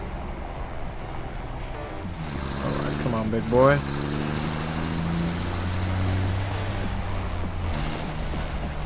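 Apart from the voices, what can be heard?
trucks driving and braking in the video game Satisfactory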